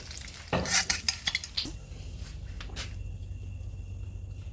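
Basil pork (pad kaphrao) being stir-fried: a short burst of clattering spatula-on-pan stirring and scraping with light sizzle, then a quieter steady background hum.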